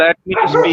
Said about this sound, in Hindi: किसी के वहां से कुत्ता भौंक रहा है